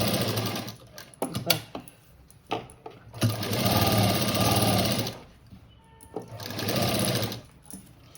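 A sewing machine stitches a bridal blouse cut from a saree border. Clicks and short starts come first, then two sustained whirring runs of stitching, loud and close.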